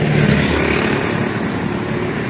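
A bus engine's loud, steady rumble drones throughout, a close, continuous mechanical roar with no pauses.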